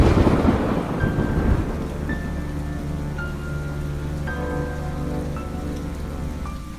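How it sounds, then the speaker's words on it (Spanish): A heavy storm with rain pounding on windows at an old hospital. A rumble of thunder rolls under the steady downpour, and thin whistling tones run through it like wind slipping through cracks. "La lluvia golpeaba las ventanas con fuerza y el viento aullaba entre las rendijas del viejo hospital."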